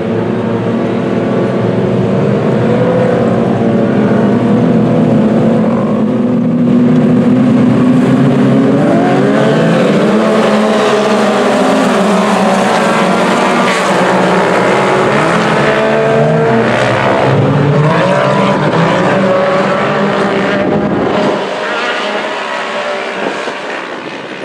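Turbo Pro Mod off-road race trucks roar around a short dirt course at Muskingum County Speedway, loud sustained engine howl with rising and falling revs as several trucks lap, the noise dropping away near the end.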